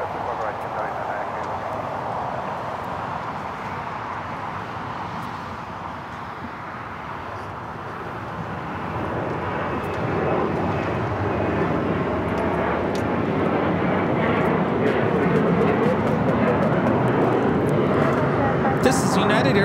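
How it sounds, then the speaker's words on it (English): A United Airlines Boeing 737-900ER takes off from LAX bound for Denver, its jet roar swelling and growing louder and rougher as it powers down the runway, with a voice talking over it. "This is United Airlines 2724 taking off to Denver on the 737-900ER."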